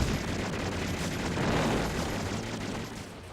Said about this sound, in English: The right button, or the circle A or B, will release a screen nuke bomb raid